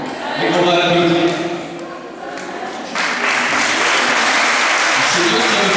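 An audience applauds the two senior-team coaches. A voice speaks in the first few seconds, then sustained clapping swells and continues steadily to the end.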